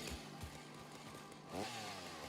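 A chainsaw in the Satisfactory video game, a steady mid-loud motor drone that surges and revs up near the end, alone with no talk.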